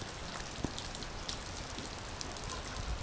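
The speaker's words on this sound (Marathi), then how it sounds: "आता पाऊस चालू झालेला आहे" Steady rain falling, a dense hiss with scattered heavier drops tapping nearby surfaces, no voices.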